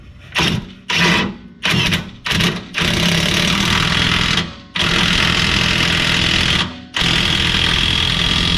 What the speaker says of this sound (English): Now you can take your impact and you can drive it all the way home.